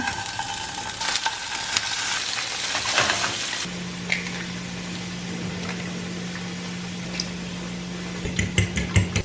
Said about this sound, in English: I'm gonna cook the tofu on this. So I'm just gonna start putting it on.